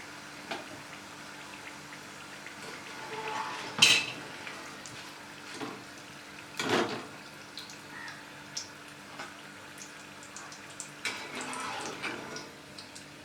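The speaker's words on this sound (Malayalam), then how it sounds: "ഇടയ്ക്കിടയ്ക്ക് സ്പൂൺ കൊണ്ട് ഇളക്കി കൊടുക്കണം." A spoon stirs chukkappam, a Kerala snack, as it fries in a pan, giving scattered light clinks and scrapes against a quiet background, with a few louder knocks near the middle.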